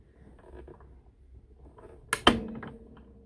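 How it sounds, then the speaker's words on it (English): A die-cutting machine creaks and clunks as stacked plates are rolled through while making a Stampin' Up bubble-background Christmas card, with two sharp close creaks in quick succession after quieter low rumbling. "Those creaking noises are perfectly okay."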